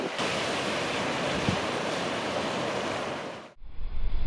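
Sea waves wash onto the shore at Blackfellows Caves, South Australia, as a steady, broad roar that holds for about three and a half seconds before dropping away to a low rumble.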